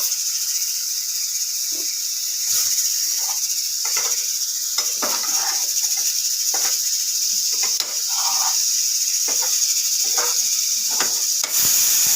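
Potatoes are stirred in a hot pan on the stove, giving a continuous bright sizzle with scattered soft scraping knocks of the spatula throughout.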